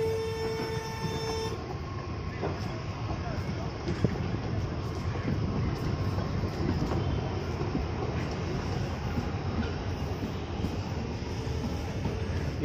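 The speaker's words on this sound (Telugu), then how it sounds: "టాయ్ ట్రైన్ వస్తుంది చూడండి." A toy train runs through a park at a tourist village near a beach, a steady rumbling rolling noise at moderate distance with a short tonal toot at the start and wind in the background.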